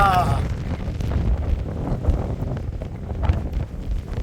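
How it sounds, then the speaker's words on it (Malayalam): Gusty wind on the Aamappara hilltop near Ramakkalmedu in Idukki, a strong low rumbling buffet on the microphone that swells and eases, with a brief voice near the start. "നല്ല കാറ്റ്"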